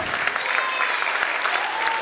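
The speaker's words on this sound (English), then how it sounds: "Please give a huge round of applause for their effort." Audience at a children's ceremony gives brief, continuous applause for the students' effort, a dense burst of many hands clapping at an even loudness.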